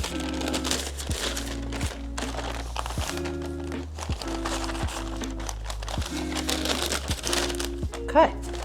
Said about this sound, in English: so I'm gonna roll this up in the parchment paper